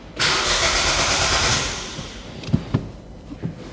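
A 2020 Renault Clio engine cranks and catches with a loud roar after a jump start, then settles toward a lower idle, followed by a few clunks and knocks.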